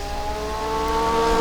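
Engine of a Porsche 991 race car in the rFactor racing game at Lime Rock drones steadily with a rising whine, a continuous close revving tone with no talk.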